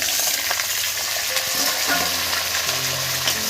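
Potatoes dropped into a frying poppy seed mixture for aloo posto, a dense steady hiss of oil sizzling up close with faint low clatter, continuous and unbroken with no talking.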